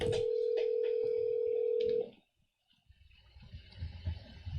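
A steady electronic ringback tone sounds loud and unbroken for about two seconds as a phone call is placed, then cuts off, leaving faint room noise and low rumbles.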